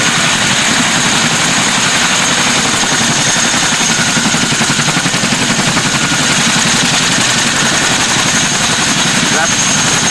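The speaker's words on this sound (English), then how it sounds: "Ramps going up and the aircraft will now depart." Military transport aircraft engines running on the ground before departure, a loud steady droning roar with rhythmic pulsing, continuous for ten seconds and close.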